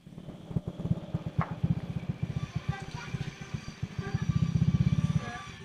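A motorcycle engine chugs near the peak of a mountain road at Mount Pulag, an uneven, close putter of rapid low thumps that swells toward the end, with voices speaking over it.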